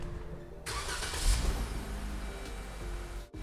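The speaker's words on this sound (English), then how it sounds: "in order to start your Jeep, place your foot on the brake pedal and push the start button." A Jeep engine started by push-button from a camper rental: a sudden crank and catch, a brief rev, then a steady close idle rumble that cuts off near the end.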